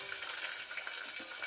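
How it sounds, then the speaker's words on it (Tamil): Small onions sautéing in a hot pan for a vegetable lunch dish, a dense steady sizzle with faint stirring scrapes, close and continuous. "இந்த ஸ்டேஜில் நான் வந்து வெங்காயத்தை ஆட் பண்ணுறேன்"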